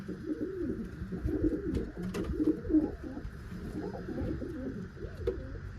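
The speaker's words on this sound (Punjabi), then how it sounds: "ਕਬੂਤਰ ਬੈਠਾ ਏ ਅੰਡਿਆਂ ਤੇ" A pigeon sitting on its eggs coos repeatedly, a soft, close rolling call rising and falling in overlapping phrases, with other faint coos and a few light clicks around it.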